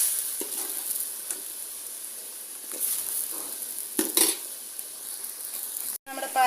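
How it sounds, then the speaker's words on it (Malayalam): Long beans dropped into a boiling pot for a Kerala-style dish, giving a steady bubbling sizzle with a few louder splashy stirs and clinks of a utensil against the pot, no talking. "ഇനി നമുക്ക് പയറൊന്ന് ഇട്ട് കൊടുക്കാം."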